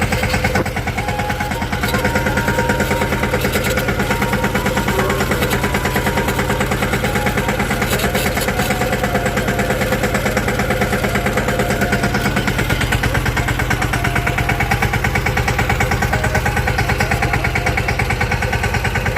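A tractor engine runs steadily while pouring water onto a bajra field, a continuous loud chugging drone that lasts throughout with no talk.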